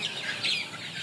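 Sonali hybrid chickens on a farm cluck softly in a brief, close burst of overlapping calls.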